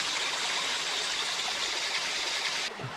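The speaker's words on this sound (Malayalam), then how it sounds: "ഇവിടെ നിന്നാണ് ഈ പുഴയുടെ ആരംഭം." A stream at the source of the Kozhippara waterfall river in Kakkadampoyil, Kerala, rushing steadily as a dense, broad wash of water, close and continuous with no voices, cutting off abruptly near the end.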